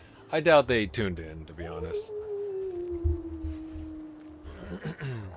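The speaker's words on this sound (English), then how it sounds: "I heard a wolf howl." A wolf in the fantasy action RPG Tale of Dark Lands lets out one long, steady, clear howl lasting a few seconds. Talk is heard just before it starts and again as it ends.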